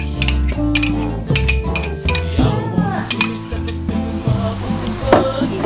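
A metal spoon stirs sour cream into okroshka with kvass in a bowl, giving loud, close, repeated clinks and scrapes against the dish in an uneven rhythm, with faint swishing of the liquid between strikes.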